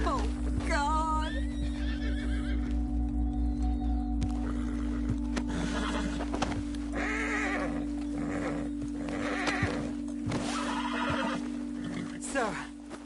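In the Red Dead Redemption 2 game a horse whinnies loudly at the start, then hooves clop and snorts come in scattered bursts over a steady low hum, with voices talking throughout.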